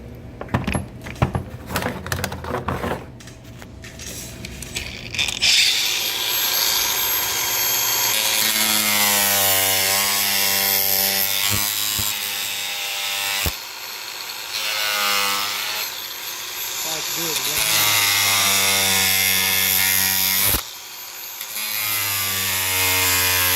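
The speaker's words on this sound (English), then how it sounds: "See, I just cut the edge off with my wheel grinder." A wheel grinder cuts the edge off a plastic socket organizer tray: a few sharp clatters come first, then a loud, sustained, high whining grind that dips briefly twice before carrying on.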